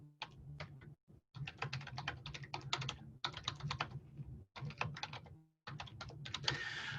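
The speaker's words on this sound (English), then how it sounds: "I'm just going to type in my team name" Fingers type on a computer keyboard nearby in quick, crisp bursts of clicks separated by short pauses, quiet and alone.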